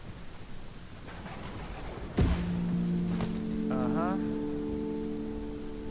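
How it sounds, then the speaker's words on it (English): Rain falls in the survival game ASKA, a steady soft hiss that runs throughout. A sudden thump partway through is followed by sustained tonal game sounds. "it's just started raining"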